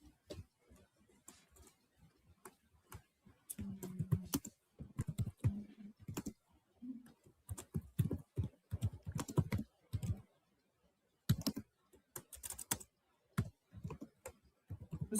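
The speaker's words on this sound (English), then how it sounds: "Who's typing?" Computer keyboard typing in clustered bursts of rapid clicks with short pauses, close and fairly quiet, during an online group chat; no voices.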